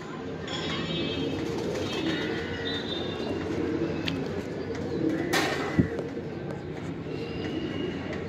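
Giribaz pigeons coo in a loft, soft repeated calls spread over a constant busy background murmur, with a brief sharp knock partway through and faint speech at times.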